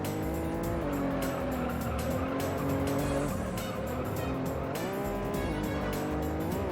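Honda NSX race car in the Juiced racing video game, a steady loud engine drone with shifting pitch as it accelerates and changes gears, with tire squeal layered over it throughout.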